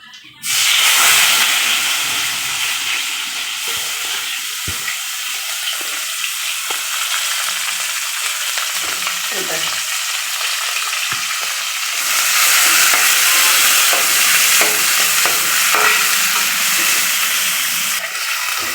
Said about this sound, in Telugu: ఇప్పుడు ఉల్లిపాయలు వేస్తున్నాం.